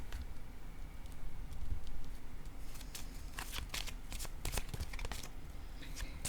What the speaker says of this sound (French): Je vais piger une carte rose ici.